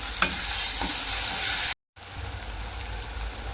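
Tomatoes with salt fry in a pan while being stirred, giving a steady close sizzle with scraping stir sounds and a brief dropout midway.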